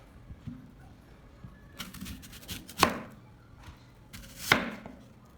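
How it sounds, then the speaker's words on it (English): A knife slicing apples in half on a cutting board, two sharp, distinct cuts ringing out about two seconds apart over a quiet kitchen background, with faint handling noises in between. "place them on a cutting board and cut them in half"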